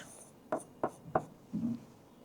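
A chemical formula is written on a board: three short, crisp strokes in quick succession, then a longer scratchy stroke, close and clear with no talking.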